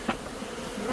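Swarm of bees crawling around on a spray-adhesive-coated surface during bee removal, a brief close buzzing with one sharp spike of a bee passing near.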